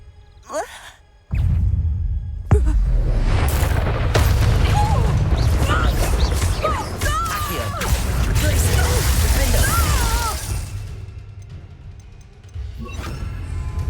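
A Bombarda blasting spell from Hogwarts Legacy goes off with a loud, sudden burst followed by a second heavy hit and a long, roaring rumble of magical debris that slowly fades, with a sigh-like voice underneath.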